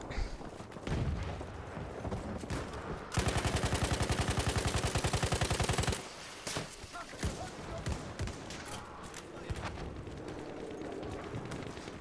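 Gunfire in a video game crackles through the scene. It includes a steady, rapid automatic burst lasting several seconds amid other scattered shots and action noise, loud and close.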